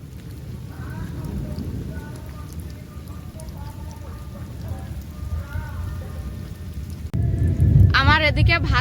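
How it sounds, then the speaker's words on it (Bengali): Steady rain falling on surfaces nearby, a continuous hiss and patter that grows louder and heavier near the end, with voices talking over it. "এই বৃষ্টিতে ভিজো না ভাই, ঠান্ডা লেগে যাবে"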